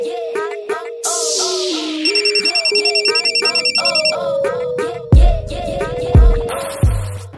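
A phone ringtone plays a melodic electronic tune with a rapid repeating beeping passage, loud and close, interrupted near the end by a few sharp knocks or clicks.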